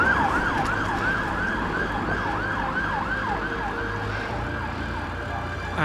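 Police siren wailing in repeated rising and falling sweeps on the road, steady and fairly loud over traffic rumble while it passes.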